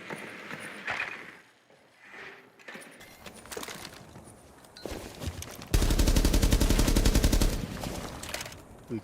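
Gunfire in the video game Rainbow Six Siege, scattered shots at first, then a loud, dense, sustained automatic burst near the end. It is mostly clear of talk.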